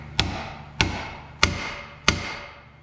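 A hefty hammer strikes a driver to seat valve seats into a Cummins 6.7 P-pump cylinder head, four sharp metallic blows evenly spaced about two-thirds of a second apart, each ringing briefly before the next.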